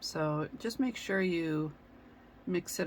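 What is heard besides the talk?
None of the usual background noises is heard.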